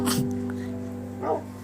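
Game dog from Minecraft yips twice, a short high bark near the start and a brief whimpering yelp later, over steady background game music.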